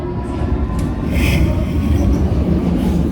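A London Underground metro train rumbles steadily and loudly throughout, with a low rolling roar and faint high wheel hiss on the rails, heard from inside the carriage with no talking.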